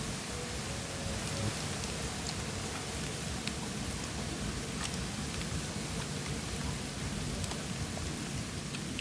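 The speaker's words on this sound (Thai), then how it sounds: "ฝนตก" Steady, heavy rain pours continuously, a dense hiss with occasional distinct drips, close and unbroken throughout.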